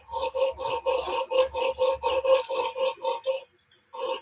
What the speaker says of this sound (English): These needle files are double cut, so you can go both ways with them.